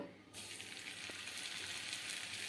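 Potato pieces for French fries slide into oil heated on high flame and set off a sudden, loud, bright sizzle that holds steady and close, with no talk over it.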